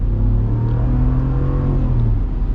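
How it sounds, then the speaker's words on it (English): A Ram Rebel Havoc Edition pickup truck engine roars loudly as it accelerates, a low rising drone that swells steadily and holds strong throughout. "let's get our acceleration here"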